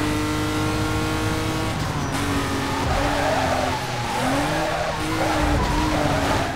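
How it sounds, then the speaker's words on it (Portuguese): A race car in Need for Speed: Most Wanted on PC skids out of control, with a continuous loud tire squeal over a droning, revving engine for the whole stretch and no talk. "Perdendo o controle do carro"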